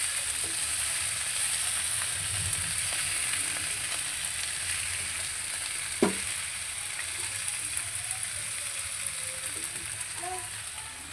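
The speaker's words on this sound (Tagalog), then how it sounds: "Lagay na natin ang ating repolyo. Then, imimix na natin." Cabbage stir-fried and mixed in a pan, a steady close sizzle of frying running throughout with a single sharp clack of a utensil midway, no talking.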